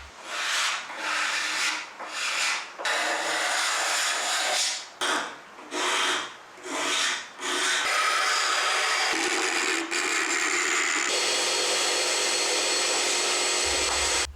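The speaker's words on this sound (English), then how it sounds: "the random orbital sander was just used as a bit of a finish up" A random orbital sander grinds across silky oak in repeated passes, pausing briefly between strokes before settling into one long, continuous whirring run, close and fairly loud.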